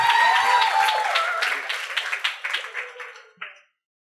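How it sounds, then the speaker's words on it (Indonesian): Students at a university orientation event clap for a speaker, a burst of applause that thins into scattered individual claps and stops abruptly, with a voice and bright tones at the start. "Beri tepuk tangan dulu dong teman-teman semua."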